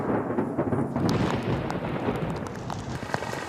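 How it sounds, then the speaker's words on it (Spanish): Thunderstorm unleashing heavy rain outdoors, a dense continuous roar of rainfall with low rumbling thunder underneath, steady and loud throughout with no voices. "Afuera, la tempestad ha continuado formándose y empieza a descargar."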